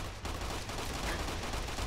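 Gunfire from the video game Fallout New Vegas forms a continuous, dense roar of overlapping shots, a steady wash of fire without pauses or voices.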